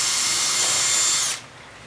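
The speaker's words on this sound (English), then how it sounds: "drill one of them" A power drill whines loudly and steadily while boring a mounting hole for a surface-mount lock, then cuts off abruptly, leaving a faint room hush.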